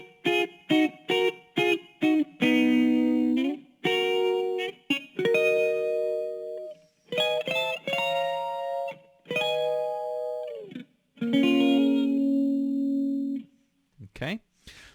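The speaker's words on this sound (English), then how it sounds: "let's cover that little solo he does at the end" Lead guitar playing the closing solo of a song, a run of short plucked notes followed by longer sustained, bending phrases, loud and clear with no voices.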